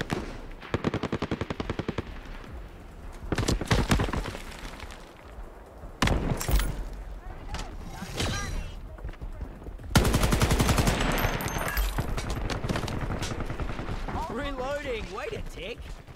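Rapid bursts of automatic gunfire and single shots in the video game Shatterline, loud and close, repeating in clusters with gaps, while people talk over them.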